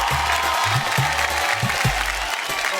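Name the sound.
audience applause on a TV game show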